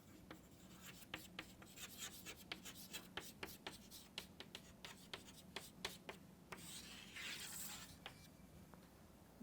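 Chalk or marker scratching on a board in a lecture room, a steady run of short taps and strokes with a longer rubbing sweep near the end, moderately close, with no talk.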